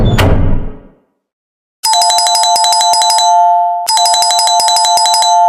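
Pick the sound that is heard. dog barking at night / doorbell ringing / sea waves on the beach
doorbell ringing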